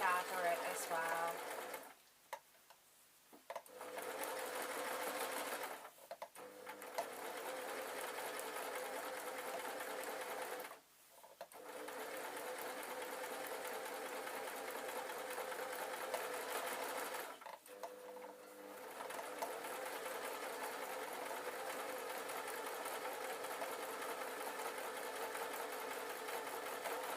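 A sewing machine runs in long steady bursts while gathering a fabric seam on a simple jacket with binding tape, stopping briefly three times between runs; the whirring is close and continuous.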